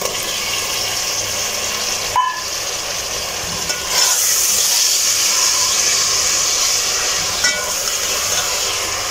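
Chopped tomatoes sizzle in a pan with softened onions for a mixed vegetable dish, making a loud, continuous close hiss with occasional clatter from stirring.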